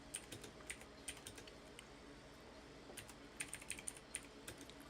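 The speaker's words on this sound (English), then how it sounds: "sorry guys, I'm typing with one hand." Keys on a computer keyboard clack in irregular bursts as someone types one-handed, crisp close clicks scattered across a quiet room, with a busier flurry near the end.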